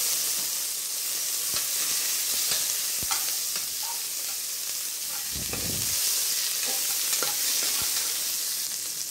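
Cinnamon, cloves, fenugreek and fennel crackle in hot oil in a pot with ginger, garlic and onion for mutton nombu kanji, a steady close sizzle broken by scattered sharp ladle clicks and scrapes, no voices.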